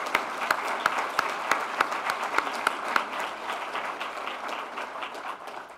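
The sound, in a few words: audience round of applause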